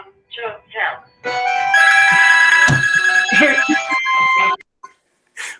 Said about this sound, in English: my phone is ringing right this moment